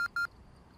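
Two short electronic beeps from a placed firework rocket in the zombie survival game Project Zomboid, quiet and close, followed by low background hum.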